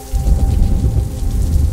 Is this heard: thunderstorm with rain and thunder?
yes